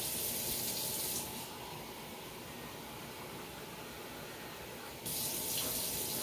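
Warm water, roughly 105 degrees, runs from a tap into a bowl for focaccia dough, a steady broadband hiss that softens in the middle and grows louder again toward the end, with no talking.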